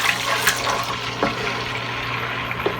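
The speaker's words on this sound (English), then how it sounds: "Then I'm going to add my chicken broth and water mixture" Chicken broth and water mixture poured into a wok for gluten-free General Tso's chicken, a steady liquid rush and splash running throughout under a constant low hum, fairly close.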